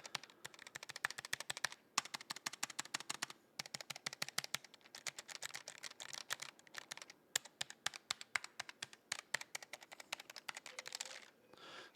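Rapid typing on a Logitech G915 mechanical keyboard with linear switches, close and crisp, with bursts of quick keystrokes broken by short pauses and a few heavier bottom-out thocks.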